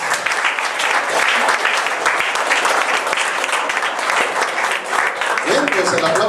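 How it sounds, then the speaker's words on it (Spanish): An audience at a bar association lawyers' event gives sustained, loud applause that fills the room, with voices mixed in beneath the clapping before it begins to taper toward the end. "el aplauso, sin pedirlo, digo, es ganado"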